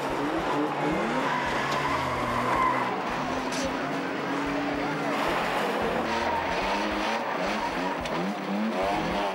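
Cars race around an oval track dragging campers behind them, with engines roaring, tires squealing and skidding continuously, and a voice talking over the racing.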